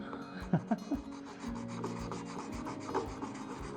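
A chisel's back is worked flat against a sharpening surface to remove the edge, steady close rubbing strokes with a few sharper knocks near the start, no voices.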